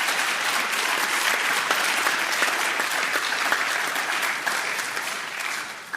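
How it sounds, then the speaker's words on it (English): A conference audience at the ACE Conference applauds a panel discussion, a loud and dense burst of clapping that holds steady before tapering slightly at the end, with no voices on top. "Let's give them a big hand of applause for all the work they put into this."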